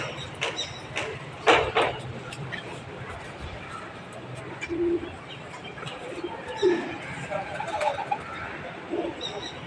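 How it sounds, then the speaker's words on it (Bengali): Domestic pigeons cooing from a rooftop loft where a flock is being flown for a Sunday match, soft low coos rising at intervals with brief chirps and bursts of activity, while someone talks nearby. "এই যে পায়রা।"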